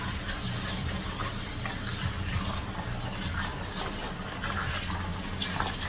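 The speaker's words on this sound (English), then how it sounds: "I've just turned my pipe on and I'm gonna just give these a nice rinse" Tap water runs steadily from a faucet into a sink to rinse raw chicken pieces, a constant close splashing rush throughout with no voices.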